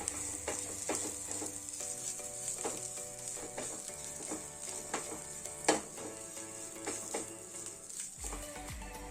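Semolina-coated fish tikka frying in oil, a steady close sizzle with scattered crackles and pops and occasional utensil clinks, no voices.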